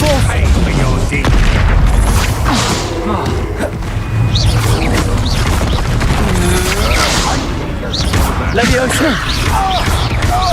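An Incendio fire spell explodes during combat in the video game Hogwarts Legacy, with repeated heavy booms, thuds and whooshing blasts over several seconds under a voice talking.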